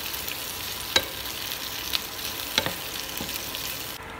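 Fried chicken pieces stirred in a hot pan with spices for a creamy Chinese-style butter chicken, giving a steady soft sizzle broken by a few sharp spatula scrapes and knocks, close and alone without voices.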